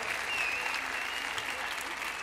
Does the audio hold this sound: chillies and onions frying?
no